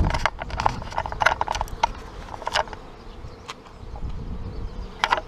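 Honeybees buzz in an opened hive box of combined colonies outdoors on a windy day, a soft insect drone mixed with rushing wind and scattered close clicks and bumps.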